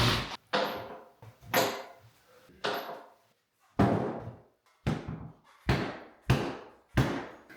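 Salvage work on a window of an abandoned Alaska cabin brings a run of about ten heavy wooden thumps and knocks, each decaying fast, loud and close, falling into a steadier rhythm near the end.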